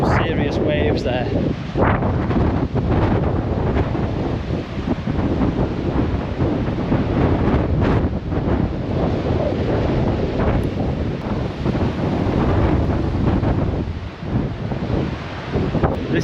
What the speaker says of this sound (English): That is some serious waves there.